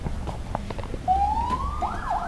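Under faint background noise, an ambulance siren begins midway, a rising wail that turns into a warbling tone, heard from a moderate distance.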